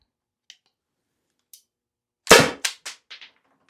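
A Byrna or Salt S2 less-lethal launcher fires one sharp, loud pop, followed by a few quicker, fainter clicks and rattles. Two tiny ticks come earlier in near silence.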